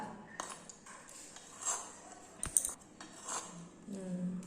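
A utensil stirs and clinks inside a small toy cooking pot during pretend cooking, faint scattered metallic taps and pings while a person talks over it.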